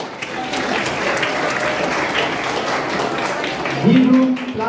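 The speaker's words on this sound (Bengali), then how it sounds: "হাততালি হোক" Applause from a school quiz competition audience, a dense continuous patter of many hands clapping at once, loud and steady throughout, with a voice rising briefly near the end.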